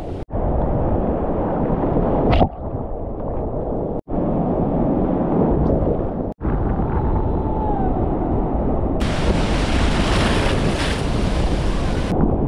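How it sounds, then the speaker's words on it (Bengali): Big sea waves break at Bakkhali beach in a continuous loud, roaring wash. Heavy wind buffeting on the microphone is mixed in, with a brief dip or two and a brighter hiss near the end. "এইগুলো কিন্তু আমার হাইটের থেকেও বড় ঢেউ।"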